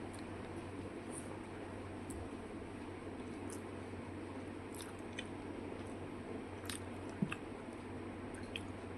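Fried prawns eaten with their shells on, chewed close up in steady, soft squishing and crunching bites with faint clicks, alone and without talk.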